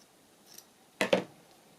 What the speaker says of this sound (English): Let's cut that down a little bit.